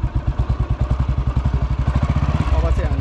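A motorcycle engine idles close by with a rapid, even thumping beat that holds throughout and grows slightly busier near the end.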